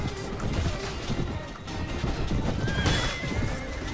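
In a Mount and Blade Warband battle, a horse neighs loudly over busy clattering hooves and impact noise, close and continuous for several seconds.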